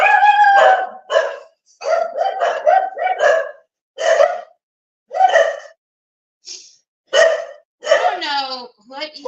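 Several dogs barking near the microphone in short, loud bursts and quick volleys, with pauses between, ending with a high whining yelp.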